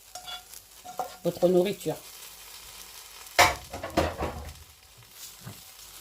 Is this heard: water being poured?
no